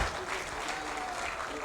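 Dense crowd applause at a political gathering for a party president, loud and continuous over the whole short stretch, with a voice talking faintly underneath.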